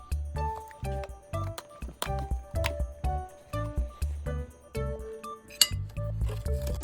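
Plates and cutlery clink and knock in a steady series of light taps while lunch is served up nearby, some contacts ringing glassy, with no talk.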